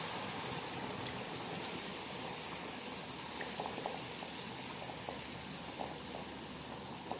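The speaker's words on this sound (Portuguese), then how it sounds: "agora vamos colocar a cerveja" Dark beer pours steadily into a pot of pork ribs, a continuous soft liquid rush with faint bubbling and no voices.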